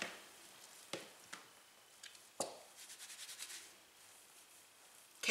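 A Monat hair masque is worked into freshly washed hair by hand, giving soft wet squishing and rubbing sounds in uneven bursts, with a few sharper close crackles.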